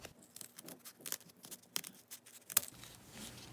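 Scissors cutting a folded paper snowflake, a series of faint, close snips and crisp paper rustles at an uneven pace.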